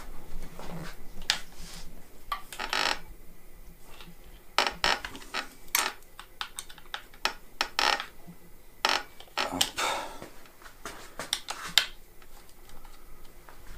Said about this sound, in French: Maintenant, on desserre légèrement sa potence.